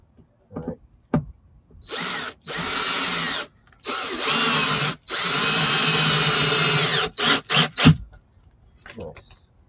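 Power drill driving screws into wood during a car amplifier install, several whirring bursts of varying length with brief pauses between, ending in short stuttering pulses, close and loud, with faint voices in the gaps.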